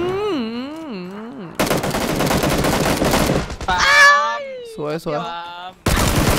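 PUBG gunfire rattles out in a dense rapid automatic burst in the middle, loud and close, while a person talks and exclaims in a high, sing-song voice before and after the shooting.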